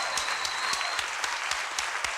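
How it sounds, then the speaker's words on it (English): A round of applause sound effect: a small crowd clapping steadily and evenly for a couple of seconds, dense and fairly loud, with no voices over it. "The stupid round of applause I can never find."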